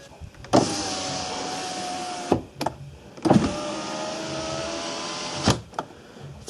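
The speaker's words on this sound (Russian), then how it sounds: "Включаем зажигание автомобиля и проверим работу стеклоподъемника." The electric power window in a Ford Focus 3 door runs twice with the ignition on, each a steady whirring motor hum about two seconds long that starts and stops with a sharp clunk, close up and with no talk.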